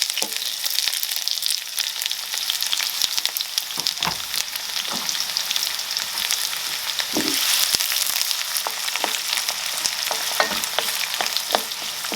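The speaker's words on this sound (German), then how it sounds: "Die wird fein gehackt und ungefähr 10 Minuten lang bei mittlerer Hitze angebraten, bis die Zwiebel schön goldbraun ist." Finely chopped onion fries over medium heat for a Balkan paprikaš, making a dense, even sizzle throughout with occasional soft scrapes and taps of stirring, close up and with no talking.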